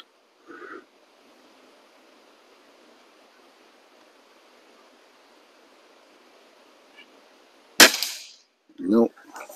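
A Feinwerkbau Sport air rifle fires once, a sharp loud crack that cuts through a near-silent outdoor background, followed a moment later by a short dull thud from the target.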